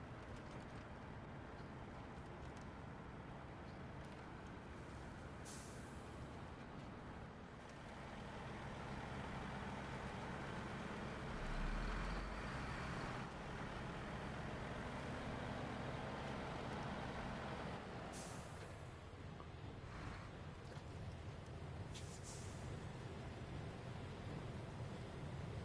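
Heavy truck engine in the SnowRunner off-road driving game, a steady low droning rumble that runs on and then settles as the rig stops, with a few brief higher clanks over the continuous engine noise.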